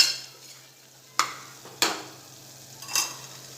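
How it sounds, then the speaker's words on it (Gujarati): Ground spices and rum masala sautéing in a pan for a rice-muthia gravy, a soft steady sizzle broken by three or four scraping stirs of a spoon, close and alone. "એને આ રીતે થોડો સાતળી લઈશું।"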